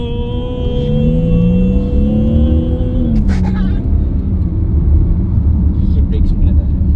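A Jaguar F-Pace SUV engine rises in pitch as it accelerates, a steady rumbling drone with a brief gear shift partway through, under faint talk.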